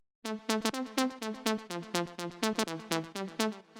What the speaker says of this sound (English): A pretty basic filtered saw wave,